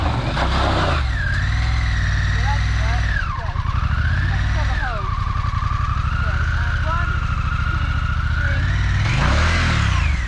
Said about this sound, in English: So, I'm going to turn the engine on.